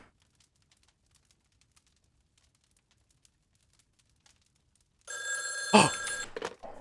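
A telephone rings in the Friday the 13th video game, a bright electronic trill bursting in loudly after several seconds of near silence and lasting about a second and a half.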